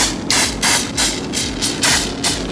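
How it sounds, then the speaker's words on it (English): Six short, loud hissing bursts of cooking oil spray onto suya meat for an air fryer come one after another at an even pace, close to the microphone. "so I'm just spraying this just so it's not too dry"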